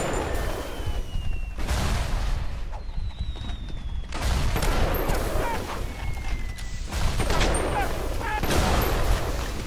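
Explosions and gunfire in the video game Bioshock, a series of loud, sharp blasts and bursts spaced a second or two apart, with rumbling tails between them.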